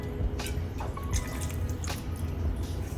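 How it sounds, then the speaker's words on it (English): Fish sauce (patis) is poured into a pot of chicken tinola covered with water, making a soft, close trickle with small drips and splashes over about three seconds. "We're gonna add 2 tablespoons of patis"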